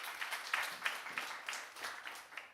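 A church congregation at Sunday worship claps for its teachers and ministers, a steady moderate patter of many hands with gentle swells, somewhat distant in the room.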